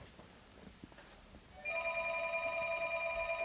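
A telephone rings indoors, a steady electronic trill that begins abruptly after a quiet moment of room noise and continues at moderate volume.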